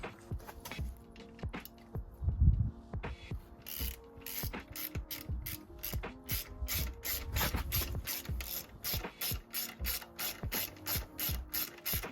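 A ratchet spanner clicks rapidly and steadily while removing bolts on a Honda CBR650R motorcycle, with close, crisp pawl ticks and a few heavier turns of the bolt mixed in.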